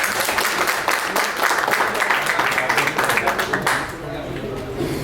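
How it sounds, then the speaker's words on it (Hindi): Steady clapping from a gathered audience at a meet-and-greet event in a gym, a continuous mass of hand claps that fades near the end while voices talk underneath. "एक बार सर की ताली हो जाए।"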